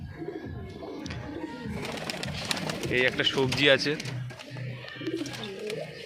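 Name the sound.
pigeons cooing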